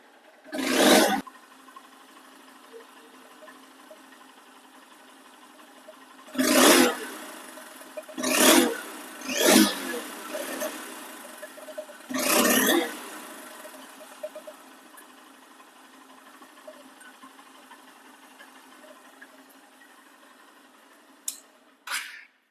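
Second-hand Honda X Blade ABS motorcycle engine, about 2700 km on it: a low steady idle throughout, broken by five sharp throttle revs that rise and fall quickly, then a brief final blip.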